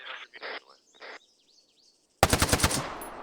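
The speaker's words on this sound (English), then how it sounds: "Got ears on gunfire, distant, east." Distant automatic gunfire in a military video game crackles in a short rapid burst, a string of sharp reports after quieter chatter and bird-like chirps.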